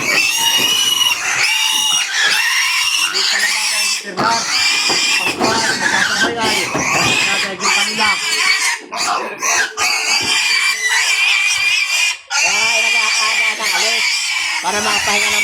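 Pigs on a Philippine farm grunting, oinking and squealing loudly and close, a dense continuous chorus of calls with people talking underneath.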